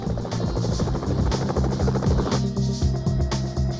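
A police helicopter thuds loudly overhead, its rotor chopping in a fast steady rhythm over a droning engine, with no voices.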